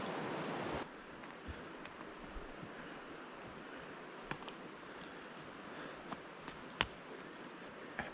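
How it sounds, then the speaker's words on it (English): The Elwha River flowing across the bed of the former Lake Mills, a steady rushing wash heard at moderate distance with a few faint clicks and knocks, no voices. "Elwha River in the foreground here"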